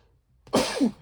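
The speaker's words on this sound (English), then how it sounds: "I need to sneeze again." A single sharp, close sneeze bursting out of near silence, loud and breathy with a short trailing release.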